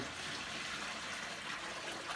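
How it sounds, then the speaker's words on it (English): Hot water pours steadily into a mop bucket, a continuous rushing, splashing stream that stays close and fairly loud throughout without pauses. "I'm gonna put this water right in here."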